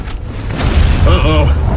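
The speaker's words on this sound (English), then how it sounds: "The explosion weakened the building." Explosion in Gears of War Judgment: a deep rumbling boom that swells and holds loud over a low-end roar, with a voice speaking over the tail.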